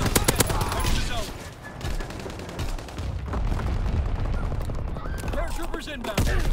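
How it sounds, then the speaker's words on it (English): An anti-aircraft salvo in a war video game: dense, rapid bursts of gunfire crackle almost without pause, loud and layered, with voices speaking in between. "Aircraft observed. Anti-aircraft salvo commenced. Clearing the skies."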